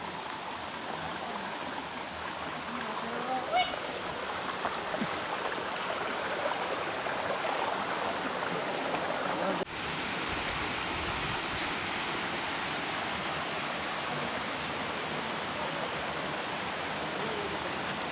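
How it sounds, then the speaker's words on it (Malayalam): Forest stream in Idukki running downhill, a steady continuous rush and splash of water heard up close, broadband and unbroken for the whole stretch, with no voices. "ഇത് നമ്മൾ ആദ്യമേ പറഞ്ഞ ആ കരിയത്തോടിൽ നിന്ന് ഉത്ഭവിക്കുന്ന വെള്ളമാണ്"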